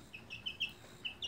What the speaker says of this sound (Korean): 꼬꼬가 벌레의 맛을 알았습니다